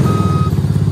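Reversing beeps from a mini Jeep put into reverse, a single steady electronic tone held for about half a second over a constant low engine or motor hum, close by with no talking.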